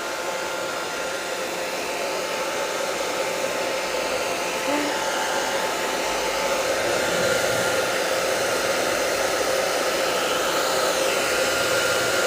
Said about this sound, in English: watercolor painting is insufferable if you don't have a hairdryer